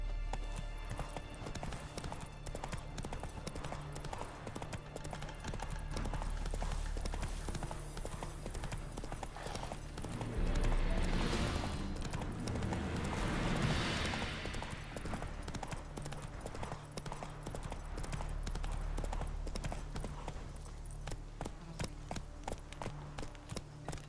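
A horse gallops in a video game, with continuous rhythmic hoofbeats close by, steady for the full length and swelling briefly in the middle, without talking.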